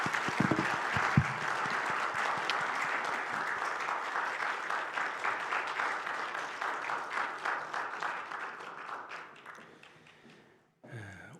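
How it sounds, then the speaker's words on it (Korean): A church congregation at a Sunday worship service honouring retiring elders claps together in a sustained round. The applause gradually thins and fades out over about ten seconds before a brief closing sound. "박수로 축하해 주시기 바랍니다."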